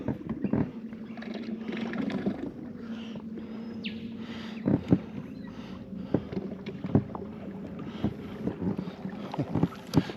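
A small outboard motor drives a boat across the water, its steady low drone running throughout with water slaps, splashes and knocks against the hull breaking in at intervals; no talking.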